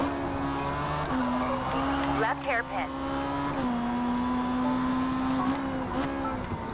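A Toyota Supra in Forza Motorsport 8 slides sideways with a steady engine drone and a wavering tire squeal. Close in-game car audio runs under someone talking.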